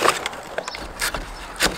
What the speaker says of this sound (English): I'm now taking the bits of pallet that Mr. J has cut up and bagging them up